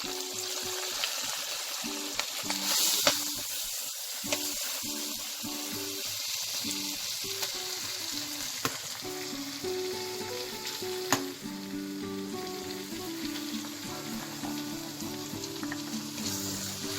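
Corn frying in a pan gives a steady sizzle, with scraping and clattering stir strokes throughout and a few sharper knocks. Tonal music plays underneath.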